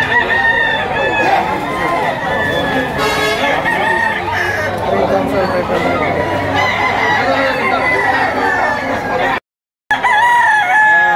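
Roosters crow loudly and repeatedly at a chicken auction in Lipa, Batangas, with clucking and crowd chatter throughout and a brief drop to silence near the end.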